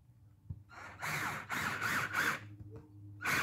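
An old Black & Decker cordless drill drives a screw inside a 1999 Elkhorn camper, giving several short whirring bursts with brief pauses between them, heard fairly near in a quiet space.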